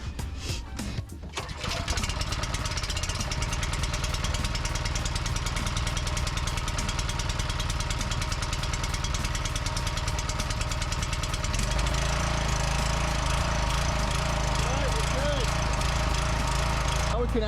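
Several pressure washer engines start up at a multi-million dollar stadium, then settle into a loud, steady running drone that holds throughout, with a shift in engine tone near the end.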